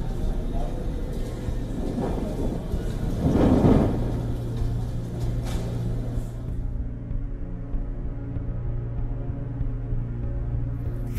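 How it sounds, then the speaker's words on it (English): A massive dust storm with rain and thunder over India's national capital region in the early morning, a broad roaring rumble that swells to a loud crack-like burst, then settles into a steady low drone. "A massive dust storm accompanied by rain hit the national capital region in India in the early hours of the morning today."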